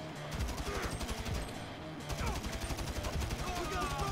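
Rapid automatic gunfire rattles in GTA 5, sustained bursts of repeated shots, fairly faint with a short pause midway and a voice speaking over it.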